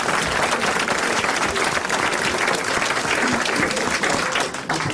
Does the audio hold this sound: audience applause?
yes